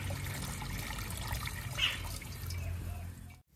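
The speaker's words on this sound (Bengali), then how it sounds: "কড়ার মধ্যে জল দিয়ে জলটা গরম করে নেব।" Water poured into a wok on a stove, a faint, steady trickling and splashing that runs evenly before cutting off abruptly at the end.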